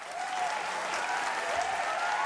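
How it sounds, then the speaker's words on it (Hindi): A studio audience breaks into loud, sustained applause during a televised reality show grand finale, the dense clapping steady and even throughout with no speech over it. "इनके लिए भी जोरदार तालियां।"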